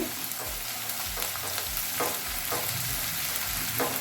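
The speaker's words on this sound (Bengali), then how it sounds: "পেঁয়াজগুলো হালকা ব্রাউন কালার করে নেব" Onions fry in a pan with a steady close sizzle, while a spoon scrapes and stirs in a rough repeated rhythm; no one speaks.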